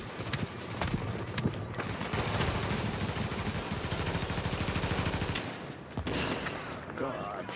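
Video game gunfire aimed at the player, rapid bursts of shots rattling almost continuously for several seconds at moderate loudness, with a brief lull near the end.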